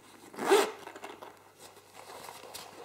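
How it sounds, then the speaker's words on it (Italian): A zipper on a black leather ankle boot is pulled in one short, close rasping stroke, followed by quiet handling noise. "La chiusura è con zip."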